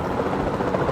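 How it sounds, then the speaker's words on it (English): A capture team helicopter in Jurassic World Evolution 2 gives off a dense, steady rotor roar with a low throbbing chop, loud and close, with no talking over it. "Then the sensible thing is to take a capture team helicopter."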